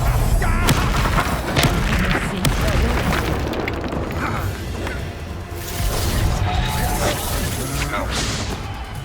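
Confringo blasting spell explosions in the Hogwarts Legacy video game, heard as loud, repeated booming blasts and crashes in a continuous battle din, with shouted voices over the top.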